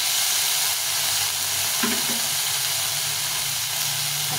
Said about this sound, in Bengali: টমেটোটা ভাজা ভাজা হয়ে গেছে।